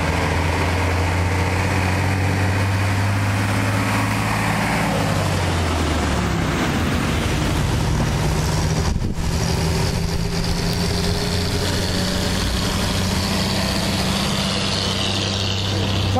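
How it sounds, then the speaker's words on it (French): A tractor engine running at a camp in Bonnétable, a steady low mechanical drone whose pitch drops partway through as the engine eases, then holds at a constant hum, fairly close. "Regarde un peu, encore un tracteur."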